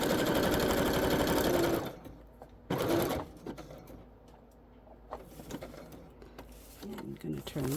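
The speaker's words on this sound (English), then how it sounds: "Just did a little tiny back stitch." A sewing machine stitches a fabric journal cover, running in a dense, fast buzz for about two seconds, then giving a brief back-stitch burst; soft talking follows in the quieter stretch.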